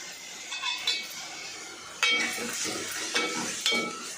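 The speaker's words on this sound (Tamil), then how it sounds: "போட்டு தக்காளி வெங்காயம் நல்லா வதக்கணும்ப்பா" Tomato and onion sauté in oil with fenugreek, a soft sizzle under occasional clinks and scrapes of a spoon against the pan, close by with no talk.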